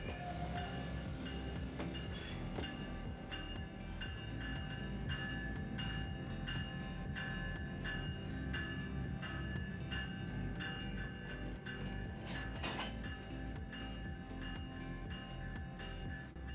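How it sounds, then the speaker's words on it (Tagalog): An ACS-64 electric locomotive reverses steadily along the rails beside a station platform to couple to a passenger train. Rhythmic wheel clicks and a faint bell or horn tone sound over continuous machinery hum. "Isang ACS 60, 4 sa katabing riles ang umaatras sa kahabaan ng platform para ikabit sa Meteor."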